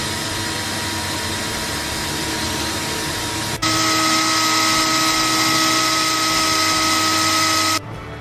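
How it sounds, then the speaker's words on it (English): Power tool cutting a ventilation hole in a steel shipping container for a container home, a loud sustained grinding whine that steps up sharply in pitch and intensity midway, then drops off near the end. "he is about to cut a hole in the container to account for proper ventilation"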